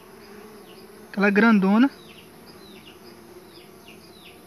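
A hive of Uruçu boca de renda stingless bees gives off a faint, continuous buzzing, briefly covered by a person speaking a short phrase up close.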